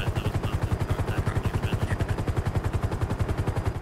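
Medical helicopter in a FiveM role-play game during a search and rescue, a steady rapid rotor chop throbbing loudly and continuously without pause.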